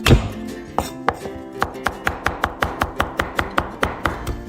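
A knife chops garlic into mince on a cutting board, a steady run of sharp, evenly spaced taps that quickens slightly after a few slower opening strikes, close and clear with no talk.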